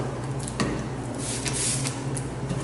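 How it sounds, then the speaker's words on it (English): Turbo Chef oven cleaner sprayed inside a commercial oven, giving a few close, hissing spray bursts over steady background machine hum. "I'm going to spray with Turbo Chef oven cleaner and start cleaning all the oven interior."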